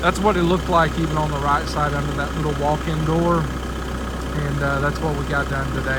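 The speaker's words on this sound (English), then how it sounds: "I'm sitting on an idling tractor" An MX6000 tractor engine idles steadily, a low constant rumble running beneath someone talking close by throughout.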